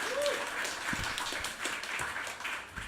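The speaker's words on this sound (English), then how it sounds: "And then one last round of applause" An audience at a literary festival reading gives a final round of applause, a steady wash of many hands clapping for a few seconds at moderate volume.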